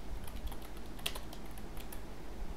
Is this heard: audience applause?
no